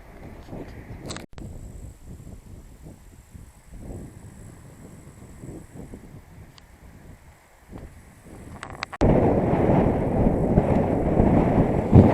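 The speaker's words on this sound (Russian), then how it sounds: "Ветер, конечно, встречный, по боковой сейчас, потом будет встречный" Low rumbling wind buffeting a microphone, steady at first, then suddenly much louder and rougher for the last few seconds.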